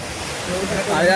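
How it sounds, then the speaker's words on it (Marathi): Raging waterfall near a mountain temple on a Ratnagiri trek, a constant rushing roar of falling water that swells slightly, heard under a person talking. "आपण जो मगाशी बघितलेला धबधबा, त्याचं रौद्र लूक बघा, खाली पाणी कसलं आहे"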